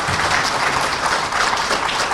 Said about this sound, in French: S'il vous plaît, qu'on applaudisse.